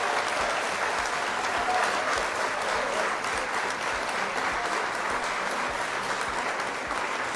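A studio audience on a live Italian digital show applauds the police, a steady dense clapping that carries on unbroken at an even level.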